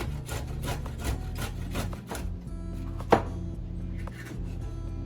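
Knife cutting fresh ginger into big chunky slices on a wooden board, a run of rhythmic close thuds and scrapes followed by a single sharper chop, with no talk.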